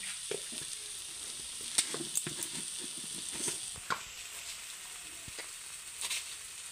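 Food fries in a pan with a quiet, constant sizzle, broken by scattered clicks and scrapes of stirring, close and fairly soft with no talking.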